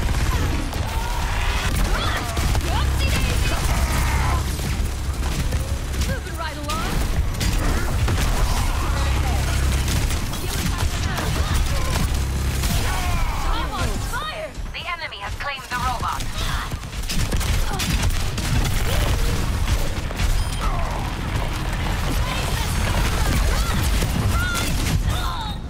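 Overwatch 2 gameplay is packed with a rocket barrage: dense rapid explosions and gunfire crash nonstop and loud, with a brief lull midway, while game voice lines and players talk over the din.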